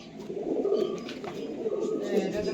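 Active top-quality pigeons in a loft coo steadily up close, soft low murmuring calls overlapping continuously with faint higher chirps.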